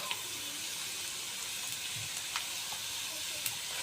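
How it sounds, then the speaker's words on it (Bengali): Pieces of chicken meat hit lightly browned onions in a hot pan for a Bengali chicken kosha, giving a steady, even sizzle with a few small pops and stirring scrapes, fairly close and with no talk. "পেঁয়াজটা হালকা করে লাল হয়ে গিয়েছে, এবার মাংসটা দিয়ে দেবো।"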